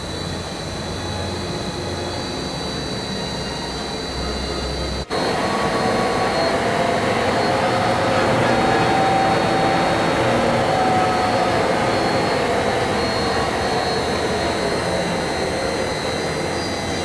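An ACER Dynamic series milling machine spindle starts up, a click near five seconds followed by a loud, steady broadband whir with a faint whine that holds alone to the end.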